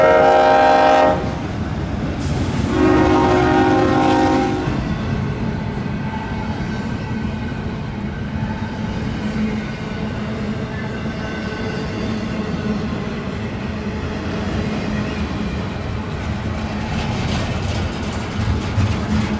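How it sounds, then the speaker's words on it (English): A westbound intermodal freight train rolls past near Fostoria, opening with loud horn blasts and then a steady, sustained rumble of cars passing close by with no voices. "here comes a westbound intermodal that's going west towards North Baltimore or Bedford Park,"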